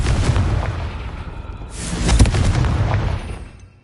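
A Confringo fire spell blast in a Hogwarts wizarding video game: two loud booming bursts, about two seconds apart, each with a rolling rumble that fades out at the end.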